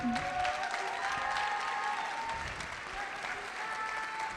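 An audience applauds artists at a francophone celebration, a steady wash of clapping from a sizeable crowd that stays fairly even throughout.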